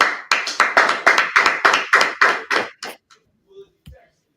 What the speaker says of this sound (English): Everyone clap it up. All right, clap it up.